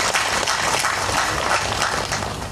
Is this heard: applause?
yes